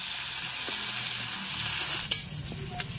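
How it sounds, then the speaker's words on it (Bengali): Onions frying in hot oil in a wok after fish was fried in it, a steady close sizzle with occasional stirring scrapes and a sharper clatter partway through. "তেলের মধ্যে পেঁয়াজ দেব।"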